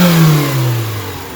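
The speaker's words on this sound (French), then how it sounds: "le fait qu'elle tourne riche comme ça, c'est pas trop bon aussi pour le moteur" Car engine running rich, revving loudly up and then settling into a falling, steady drone at close range with no voices.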